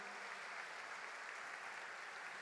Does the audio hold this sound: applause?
yes